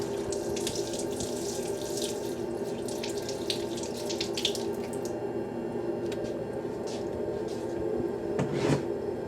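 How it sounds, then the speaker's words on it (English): Tap water runs steadily into a sink to rinse a YSI sonde water-quality instrument with DI water during calibration, a continuous close splashing wash with a brief louder splash near the end and no talking. "Now we rinse and clean the unit"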